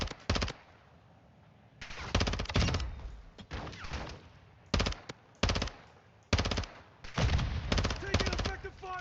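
Heavy automatic gunfire in the shooter Warzone 2.0 DMZ, loud close bursts of several rounds each, separated by short gaps, with a faint voice in the background.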